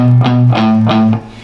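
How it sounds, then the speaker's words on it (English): Palm-muted distorted electric guitar chugging on the low sixth string, about four short thudding hits in even rhythm, close and loud, fading at the end. "or we're going to be palm muting just the 6th string"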